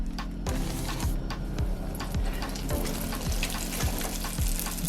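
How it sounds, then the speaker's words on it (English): Bread-machine donut dough fries in a pot of hot oil with a steady, dense sizzle and crackle, close and continuous, with light regular ticking throughout. "Carefully place your donut in the oil."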